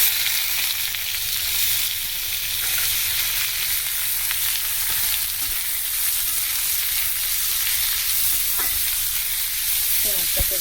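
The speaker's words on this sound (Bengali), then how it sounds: "পেঁয়াজটাকে ভেজে নেব।" Chopped onions sizzle in a pan, a loud, steady frying hiss throughout with a few faint clinks of stirring near the end.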